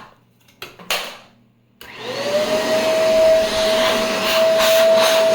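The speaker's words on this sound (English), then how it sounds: "we'll check if the vacuum still works by the time it reaches this part here" Shark Duo Powerfins vacuum cleaner being checked during repair, heard with a few clunks of handling before the motor starts and spins up into a steady, loud whine with a high tonal hum that holds to the end.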